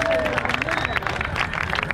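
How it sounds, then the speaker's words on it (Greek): An audience at the Piraeus Taste Festival, an outdoor food event, gives a brief round of applause, steady scattered clapping mixed with crowd chatter and background noise. "Και ένα τελευταίο χειροκρότημα."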